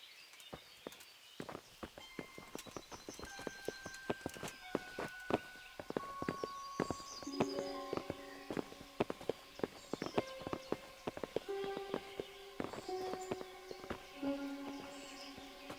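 Horse hooves clip-clop at a steady walking pace in the video game Kingdom Come: Deliverance, with light percussive taps and faint tonal chimes in the background, no talking.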